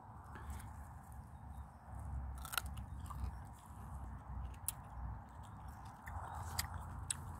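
Someone bites into and chews a raw wild root, freshly dug from the earth outdoors, making quiet, close, irregular crunches with a soft chewing texture between them.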